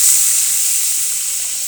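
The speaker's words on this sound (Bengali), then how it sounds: "দিয়ে দেবো পরিমাণ মতন জল।" Water poured into a sizzling onion-tomato masala with chilli powder in a pan, a loud steady hissing burst that slowly eases off, with no voices.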